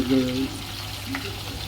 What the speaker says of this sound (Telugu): ఇట్లా రొయ్యల్లోని వాటర్ అంతా బయటకు వచ్చి ముక్క బాగా వేగుద్ది అనమాట.